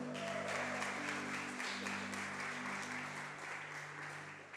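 A church congregation applauds at an evening worship service, steady dense clapping from many hands over a held organ or keyboard tone, fairly loud and continuous, easing slightly toward the end.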